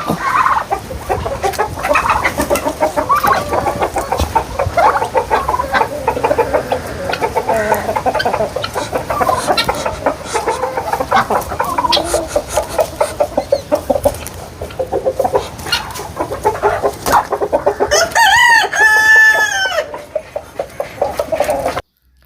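Several chickens near a coop cluck and chatter continuously at close range, with busy overlapping calls and a louder rising squawk near the end.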